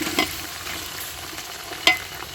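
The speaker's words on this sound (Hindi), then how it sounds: "और अब मैं इसके अंदर चिकन डाल देने लगी।" Chicken sizzles steadily in a hot pan with browned onions, with a couple of sharper scraping stirs breaking through the constant frying hiss.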